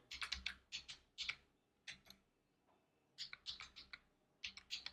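Quick bursts of typing on a computer keyboard, clusters of close key clicks separated by short pauses, with no voices.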